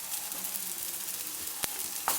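Vermicelli fries in a pan with a constant, close hissing sizzle and soft stirring noises, broken near the end by two sharp clicks of a utensil against the pan, with no talking.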